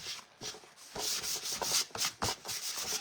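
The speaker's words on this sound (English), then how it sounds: "Got that sanded." A wooden door hanger is sanded by hand in rhythmic back-and-forth scratchy strokes, close and fairly quiet, with no talking.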